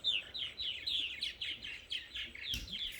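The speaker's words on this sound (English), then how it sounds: "You can see the birds close up." Small birds chirp close by, a rapid run of bright, repeated tweets continuing steadily over quiet background, with one brief low thump near the end.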